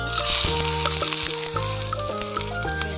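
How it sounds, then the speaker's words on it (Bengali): Chopped onion and green chili sizzle in a hot pan, a close, continuous frying hiss with a few stirring knocks and scrapes, heard alone. "আমরা কড়াইয়ে দিয়ে দেবো তুই সর পেঁয়াজ কুচি আর অল্প লঙ্কা কুচি"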